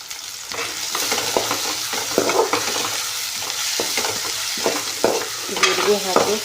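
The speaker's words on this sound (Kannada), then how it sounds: "ಜೀರಿಗೆ ಹಾಕಿ ಸ್ವಲ್ಪ ತಿರುಗಾಡಿ" Cumin seeds and curry leaves crackle and sizzle in hot oil while a spoon stirs and scrapes the pan in steady, close strokes, with no talking.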